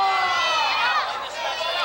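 Wrestling arena crowd roaring and cheering for Tito Santana, a loud, dense wash of voices that swells and then eases slightly.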